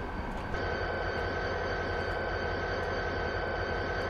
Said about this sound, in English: There it is, train taking off.